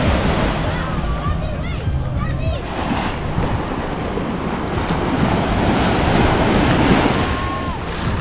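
Strong gusts of wind buffet a beach at Emerald Beach, St. Thomas, a steady broad roar blending with surf, while people talk and chatter faintly in the background.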